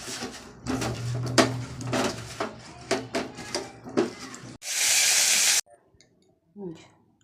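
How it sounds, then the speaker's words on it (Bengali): Potatoes fry in a pan: a spoon clatters and scrapes against the pan, then a loud, hissing burst of sizzle lasts about a second before cutting off to near silence and a last soft knock. "আলুটা ভেজে নিই।"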